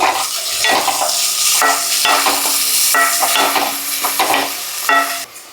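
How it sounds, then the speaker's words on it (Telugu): Cumin, onions and curry leaves stirred in hot oil in a kadai, a steady loud sizzle with scraping strokes of the spoon running throughout, then cutting off near the end. "కొద్దిగా జీలకర్ర ఉల్లిపాయలు కొద్దిగా కరివేపాకు ఒకసారి కలుపుకుందాము"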